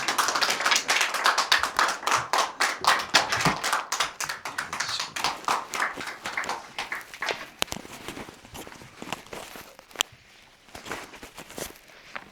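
A church congregation claps warmly to welcome a missionary, dense applause starting strong and gradually thinning and fading over several seconds.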